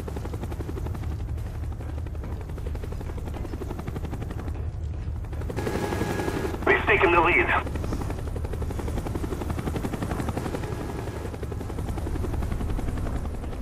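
A Cobra attack helicopter flies overhead in the PS3 game Call of Duty Black Ops, its steady rotor throb continuing throughout, with a short burst of gunfire midway.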